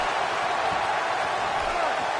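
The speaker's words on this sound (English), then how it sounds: "This crowd's going nuts, King." A wrestling arena crowd in a video game roars in a steady, dense wash of cheering that holds at one level throughout, with no breaks.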